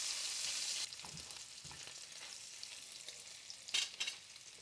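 Bacon crisping in its own rendered fat in a pan gives off a bright hissing sizzle that drops to a quieter crackle, with scattered stirring scrapes and a louder clatter of the utensil near the end.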